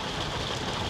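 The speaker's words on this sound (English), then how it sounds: "it's too loud with the rain" Rain drums steadily on the roof of a motorhome parked at a beach car park in Blackpool, a dense, even patter heard close up with no pauses.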